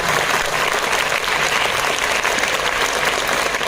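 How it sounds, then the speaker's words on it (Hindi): Schoolgirls at a women's empowerment program in Bhinmal clap for themselves and their school, a loud, full, continuous roar of many hands held at a steady level throughout. "एक बार खुद के लिए और अपने स्कूल के लिए तालियां बजाएं।"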